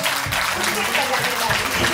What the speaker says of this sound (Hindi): अपने लिए भी एक ताली बजा लीजिए